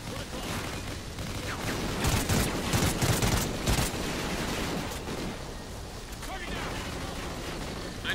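Machine gun fire in the shooter Call of Duty: Ghosts rattles on in sustained bursts with booming impacts, loudest in the middle and easing off toward the end, under a voice.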